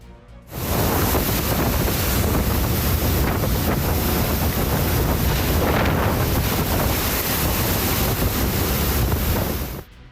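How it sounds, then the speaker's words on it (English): Heavy waves crash and surge over a car-carrying ferry in a continuous, loud roar of rushing water and spray, with strong wind buffeting the microphone throughout, no voices. "Thanks to the strong waves, the cars on this ferry received a free washing service."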